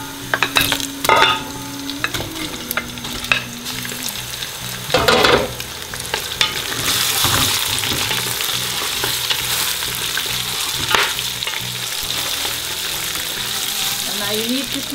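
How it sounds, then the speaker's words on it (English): Lamb browning with softened brown onions in a stew pot gives a steady sizzle and frying hiss, broken by occasional stirring scrapes and a few louder bursts; no one speaks. "Now you need to keep browning this meat till all the meat's nice and brown."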